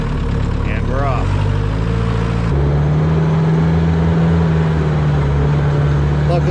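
A Willys Jeep in 4-wheel low range heading off-road onto a wooded trail, its engine humming steadily near the microphone as a deeper drone settles in partway through, with talk over the running motor.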